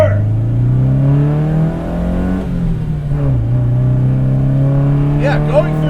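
A modified Datsun 510 wagon pulls uphill through its gears, the engine droning loud and close as its pitch rises, drops at a couple of shifts, then climbs again.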